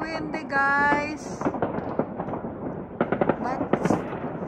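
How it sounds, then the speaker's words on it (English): Outdoor New Year's street celebration in Gütersloh, Germany, with scattered firecracker bangs and pops, a dense burst early on and sharp cracks later, under strong wind noise and some distant voices. "at least I can hear, I can see the firecrackers."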